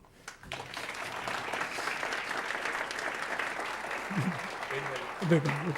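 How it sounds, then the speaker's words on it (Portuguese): Audience applause after a lecture on smoking, a full crowd clapping steadily after a sharp start, with a voice starting to speak over the last seconds. "Se vocês quiserem aplaudir."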